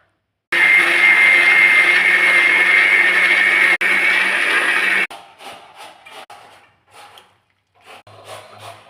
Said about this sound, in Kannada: ಅಕ್ಕಿ ಜೊತೆಗೆ ಸ್ವಲ್ಪ ನೀರು ಹಾಕ್ಕೊಂಡು ಮಿಕ್ಸರ್ ಮಾಡಬೇಕು.